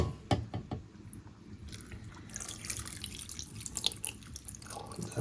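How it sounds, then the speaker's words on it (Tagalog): Water poured and dripping into a cooking pot while preparing salmon head and jaw paksiw, with irregular splashes, trickles and light clinks of the pot, fairly faint and close. "Tapos yung tubig niya, nandyan na yung tubig niya."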